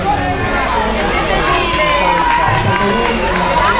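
A lively outdoor crowd at a youth triathlon finish in Turin cheers, shouts and whoops close by as athletes arrive. Children's voices and nearby chatter mix into the dense, loud noise.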